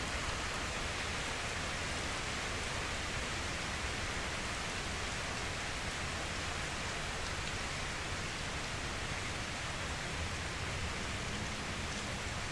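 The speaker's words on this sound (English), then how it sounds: "the beautiful natural sound of the rain around us" Steady summer rain falls outdoors as a dense, even hiss that holds without a break throughout, with no voices.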